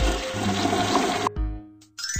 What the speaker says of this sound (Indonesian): Siram toilet setelah kamu selesai.